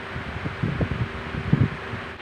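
An electric fan blows air indoors, a steady close whoosh with a faint hum and soft rustling fluttering through it.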